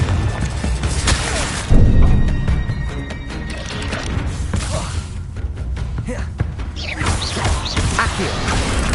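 A Confringo fire spell bursts in Hogwarts Legacy, a loud booming blast with crashing debris and whooshes amid dense game mechanisms and rumble, close and full.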